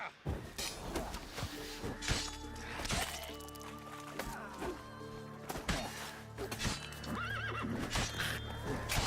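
Roach the horse in The Witcher 3 on Skellige, neighing and whinnying with clip-clop hooves, scattered hard thuds and a shattering crash amid game sounds, with someone talking over it.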